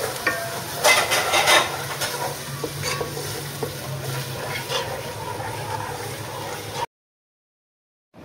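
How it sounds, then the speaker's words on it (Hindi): Peas and garlic-ginger paste frying in a pan while being stirred, a close, busy sizzle with scraping strokes and clinks for about seven seconds before it cuts to silence; no one speaks. "इसको हमें अच्छी तरह भून लेना है।"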